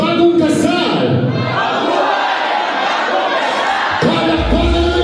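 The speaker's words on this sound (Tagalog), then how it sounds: "sabay-sabay natin isigaw ng malakas. Mabuhay ang bagong kasal!" Wedding reception guests shouting together in unison at the emcee's prompt, a loud sustained crowd roar of many voices that holds steady for several seconds.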